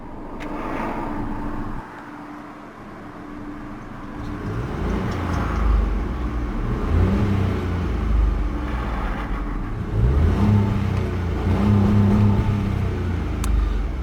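A 2019 Ford Fiesta 1.0T EcoBoost ST-Line three-cylinder engine runs steadily at idle with a low, continuous hum, rising slightly in intensity partway through, heard close without talk.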